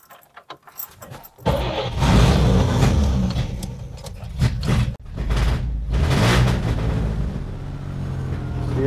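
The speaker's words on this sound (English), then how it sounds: "See, it takes a little while to start it." An old car engine in East Los Angeles cranks briefly, then catches and roars to life, settling into a loud, steady running rumble close by.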